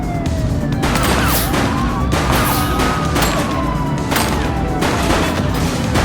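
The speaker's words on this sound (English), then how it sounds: "Shots fired! Take a shot if you can." Bursts of gunfire crackle repeatedly through a loud, continuous police siren wail in the police game The Precinct, with the shots and siren dense and close throughout.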